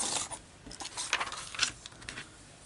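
A laminate sheet being trimmed, giving several short scraping, rasping cuts in an uneven rhythm, close and moderately loud, with no talking.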